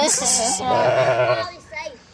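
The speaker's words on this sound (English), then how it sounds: "You got the sheep that's begging for their grain because we've changed the routine this morning." Sheep on a farm bleat loudly and close, wavering cries overlapping one another as they beg for their grain at a changed morning feeding.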